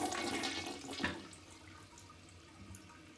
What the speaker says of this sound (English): I want to show you how you can fix a weak flushing toilet.